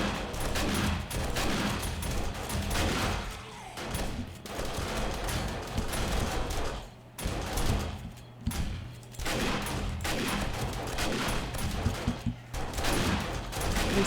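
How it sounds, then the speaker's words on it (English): Automatic turrets fire relentlessly at zombies in the 7 Days to Die video game, dense rapid gunfire bursts layered into a nearly continuous fusillade with brief gaps, loud and close. "Surprised the turrets aren't out of ammo yet with all they're shooting."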